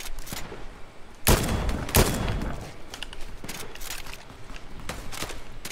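Gunfire shootout in the battle royale game Fortnite: rapid bursts of automatic fire with two sharp loud shots, then continuous crackling volleys at mid distance with no talk.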